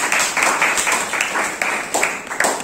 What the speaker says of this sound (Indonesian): kita kasih aplaus untuk kalian semuanya